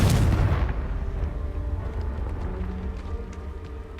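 Confringo blasting spell explosion in the Hogwarts Legacy video game, a loud booming burst at the start that rumbles and fades into a dull, decaying roar.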